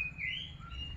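A hill myna gives a brief, close vocalization, a clear whistled tone that slides upward and then levels off over about a second, heard alone against quiet background.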